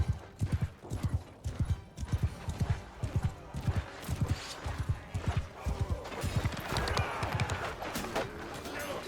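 Rapid, rhythmic hoofbeats of a galloping horse in the video game Mount & Blade 2: Bannerlord, loud and close, with scattered clashing and crunching noises of battle in the background.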